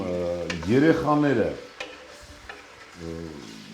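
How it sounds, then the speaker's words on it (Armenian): Hot oil sizzles and crackles steadily as crayfish tails fry, with voices speaking over it. "Յուղը դաղվեց, ավելացնում ենք խեցգետնի պոչը։"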